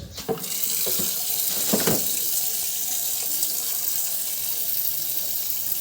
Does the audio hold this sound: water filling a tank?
yes